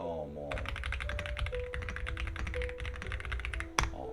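Rapid clacking of keys on a mechanical keyboard, steady and close, running for several seconds with a single sharper click near the end.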